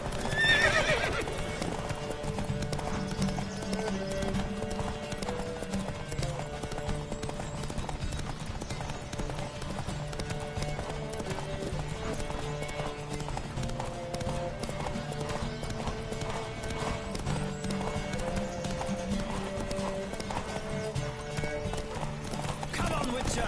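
Horses gallop hard in a race within the Witcher 3 video game, with steady clip-clop hoofbeats and occasional whinnies running continuously under game music and spoken voices.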